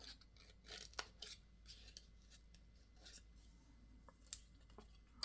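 Scissors snip through a paper tag in a quiet room, a few crisp cuts and soft rustles heard close and faint, with no talking.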